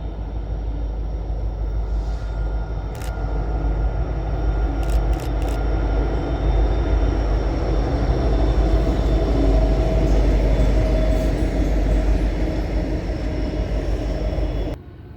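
A set of helper locomotives rolls downhill at Horseshoe Curve with a loud, steady rumble and drone that continues unbroken, with a few brief high clicks and squeals above it, before dropping off sharply at the end.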